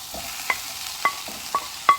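Cucumber and scrambled egg stir-fried in oil, with a soft steady sizzle broken by four evenly spaced spatula scrapes against the pan.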